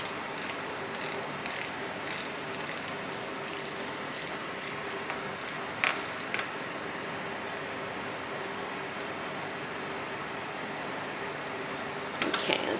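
A bobbin winder is worked off a cast-iron 1908 Ruby sewing machine, giving a run of rapid, close ratcheting clicks in short regular bursts, then a pause before one final click burst.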